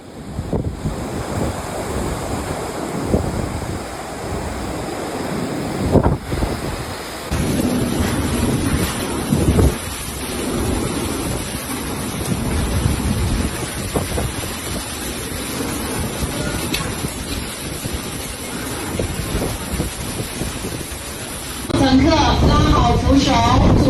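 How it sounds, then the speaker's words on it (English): Strong Typhoon Danas winds, gusting over 100 km/h in Fujian, China, roar and buffet the microphone in heavy gusts, with surging rumbling noise throughout and a harsher blast near the end. "Powerful gusts exceeding 100 kilometers per hour tore through the city"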